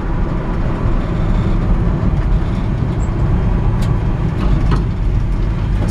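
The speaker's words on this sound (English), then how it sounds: "this truck really drives down the road nice" 1957 GMC 100 pickup driving on the road: steady loud engine drone and tire and wind rumble from inside the cab, continuous with no voices.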